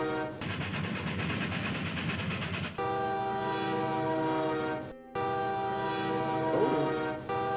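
Synthesized train sound effect from the SimCity video game while railroad track is laid: a loud, continuous rumble with sustained horn-like tones, broken by a brief gap and then resuming.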